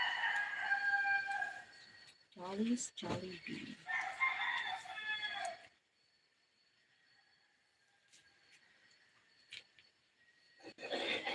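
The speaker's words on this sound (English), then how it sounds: "What type of chicken you got so loud?" A loud rooster crows close by in long harmonic bursts over the first half, with people talking before and after; the second half drops to near silence.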